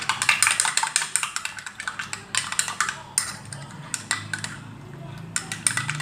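A metal spoon measures cocoa powder in a cup for an iced cocoa drink, producing a quick run of repeated bright clinks and scrapes against the cup, close and fairly loud, with a voice faintly underneath.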